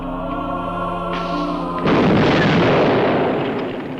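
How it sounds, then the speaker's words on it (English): The Holy Hand Grenade of Antioch goes off in a Monty Python film: a sustained sung chord cuts into a deep, loud booming blast that rumbles and slowly fades. "no weapon is more suited for the task than the Holy Hand Grenade of Antioch"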